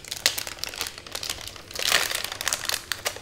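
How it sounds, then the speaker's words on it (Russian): A zip-lock plastic bag crinkles and crackles in quick, irregular bursts close up, with a fuller rustle midway and no talk. "с зиплоком пакетик."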